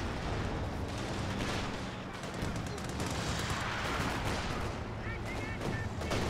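A Stuka artillery strike in the game Company of Heroes 2, heard as a dense, continuous roar of explosions and gunfire that stays loud throughout.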